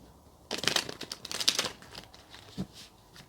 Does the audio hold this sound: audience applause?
no